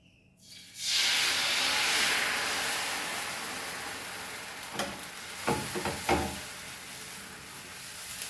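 A steady sizzling hiss as thin rice-flour dosa batter is poured onto a hot pan, followed by a few soft scraping taps near the end; no talking.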